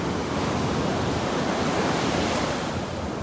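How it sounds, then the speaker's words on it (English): Ocean surf on a beach in North Naples, Florida on a Sunday morning, a continuous broad wash of breaking waves, steady and full, heard alone with some wind noise. "Listen to these waves."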